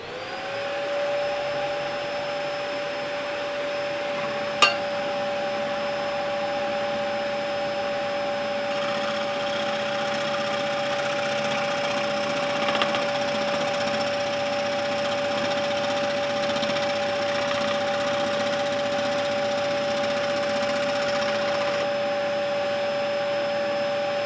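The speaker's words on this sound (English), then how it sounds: "vacuum cleaner on." A vacuum cleaner switches on and runs with a steady high whine and airy rush, loud and unbroken, after one brief sharp click near the start.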